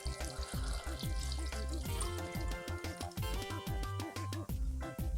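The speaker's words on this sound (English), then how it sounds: "And then we're just going to top it with water." Water pours into a fermenting jar of pear, juniper and pineapple rind tepache, a close, gurgling stream with bubbling, rising-pitch splashes as the jar fills, no talking.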